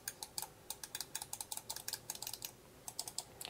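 Omron switches in a Hama uRage gaming mouse clicking close up, a quick irregular run of around twenty sharp, crisp clicks with short pauses, alone and fairly quiet.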